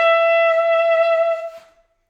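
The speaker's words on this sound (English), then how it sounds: "the flare that you heard me do at the beginning. It sounds like this." A quick saxophone scale run, the opening flare of a well-known song, rises as one bright, sustained line with rich harmonics, played solo and close, then fades out over the last moments.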